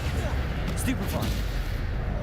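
Spell blasts in the Hogwarts Legacy video game: a couple of brief bright bursts cut through a dense, rumbling battle din that fills the whole stretch.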